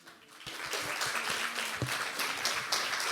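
A conference audience applauds, a dense wash of many hands clapping that rises quickly and holds steady at moderate volume for a few seconds, with some louder individual claps near the start.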